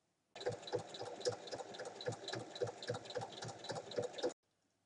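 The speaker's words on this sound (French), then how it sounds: "Alors j'ouvre et je viens faire une surpiqûre." A sewing machine topstitches a fabric pouch in one steady run of rapid, even needle strokes, close and clear for about four seconds before stopping abruptly into silence.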